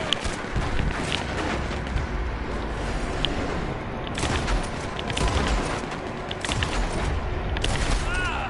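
Dense gunfire from a shooter video game, sustained rattling bursts and booms layered into a loud, continuous wash of shots.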